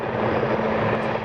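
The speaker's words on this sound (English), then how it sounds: "Every few minutes, choppers hover over Cache Creek." Firefighting helicopters hover low over Cache Creek during a wildfire, giving off a brief, constant rotor and engine roar that stays at an even loudness.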